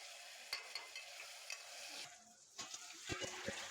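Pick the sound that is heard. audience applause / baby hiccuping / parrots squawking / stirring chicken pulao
stirring chicken pulao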